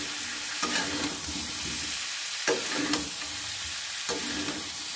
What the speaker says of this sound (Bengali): সবগুলো উপকরণ দেখো ভালো করে নেড়ে চেড়ে আমি ভেজে নেব মটরশুঁটি